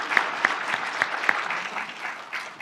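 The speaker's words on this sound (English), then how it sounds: "Give him a round of applause." Audience applause at a tech conference talk about Istio, with sparse individual claps standing out over a steady bed of clapping, moderately loud and continuous throughout.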